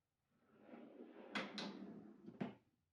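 A workbench drawer runs on ordinary drawer slides, giving a soft rolling rumble with a few sharp knocks as it moves and stops. Quiet and close, with no talk.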